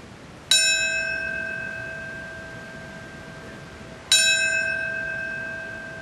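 A large church bell tolls twice, about four seconds apart, each strike ringing out and slowly fading into quiet, at Ground Zero in New York during a September 11 memorial ceremony.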